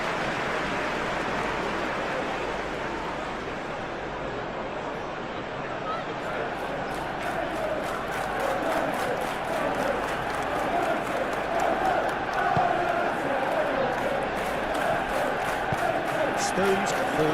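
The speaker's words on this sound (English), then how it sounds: "The crowd reaction tells you just how close that was." Simulated stadium crowd in a PES 2021 football match, a broad, sustained roar and murmur of thousands of fans that swells gently over several seconds, with commentary voices running over it.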